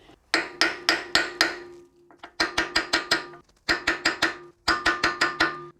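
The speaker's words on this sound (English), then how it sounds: "place your brass hammer onto the end of the stud and hit that with a regular hammer" A brass hammer set on the end of a wheel hub stud is struck with a regular hammer during a Toyota Land Cruiser swivel hub rebuild: four bursts of sharp metallic blows, about four or five quick strikes each, close and loud.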